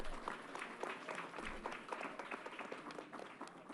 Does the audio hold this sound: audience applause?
yes